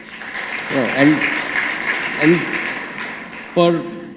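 Scattered audience applause in a hall after a remark about India's digital financial inclusion, a broad steady patter with a voice sounding briefly over it several times.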